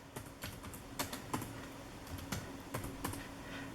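Someone typing a search on a computer keyboard, a quiet, irregular run of light key clicks in short bursts, close and soft, with no speech.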